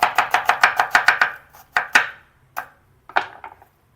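An onion is sliced thinly with a knife on a cutting board, giving a quick run of about ten crisp, close chops followed by a few slower, scattered cuts, with no talking.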